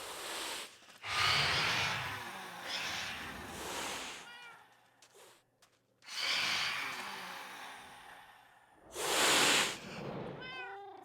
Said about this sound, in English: Those sounds are cats hissing because phantoms are scared of cats.